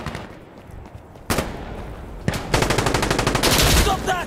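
Rapid automatic gunfire in Insurgency Sandstorm: a sharp shot, a second burst, then a long sustained volley of loud close bursts, with a voice briefly heard.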